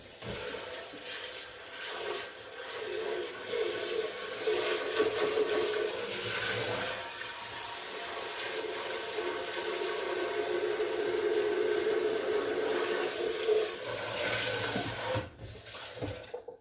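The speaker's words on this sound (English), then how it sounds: "I'm gonna rinse this out so I can use it to make the next batch" Running tap water pours into and rinses out a container in a kitchen, a steady splashing rush for most of the stretch before cutting off near the end.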